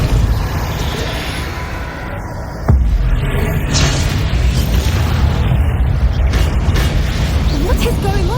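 A Depulso spell is cast in Hogwarts Legacy, bursting with a sudden loud boom partway through amid an ongoing bed of magical combat noise, with a voice talking around it.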